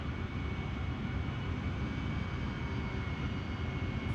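AV-8B Harrier jet engine throttling up in the DCS World flight simulator, a steady, loud, broadband roar with a faint high whine, holding constant throughout with no talk.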